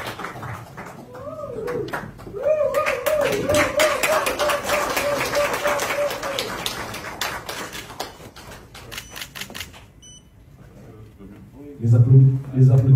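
Sparse, hesitant clapping from an audience at a formal ministerial session, heard under ongoing speech and tonal sounds, thinning out toward the end before a voice speaks.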